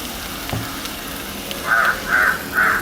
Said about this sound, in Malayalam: ഇതിൽ നമുക്ക് 2 സവോള നമുക്ക് ഇതിലേക്ക് ഫ്രൈ ചെയ്യുന്നതിന് വേണ്ടി ഇട്ട് കൊടുക്കാം.